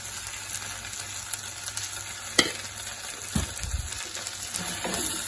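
Dry fish curry masala with turmeric and coriander powder being stirred in a pan, a steady close sizzle with scraping spatula strokes and a couple of louder knocks against the metal.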